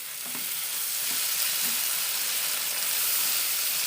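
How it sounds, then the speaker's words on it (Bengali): Spice paste fries in a pan for an egg korma as whisked sour yogurt goes in, giving a steady, close, even sizzling hiss that runs without a break. "তাহলে মশলাটা আর একটু ভালো করে ভাজা হবে আমি আগে থেকেই ফেটিয়ে রেখেছিলাম টক দইটা দিয়ে দিলাম"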